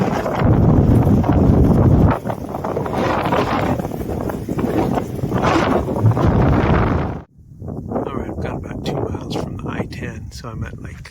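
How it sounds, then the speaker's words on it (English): Strong wind buffeting a hiker's microphone on a dry desert stretch of the Pacific Crest Trail, a loud steady rumble with brief gusting lulls and one sudden drop near the end. "Still with the wind blowing me."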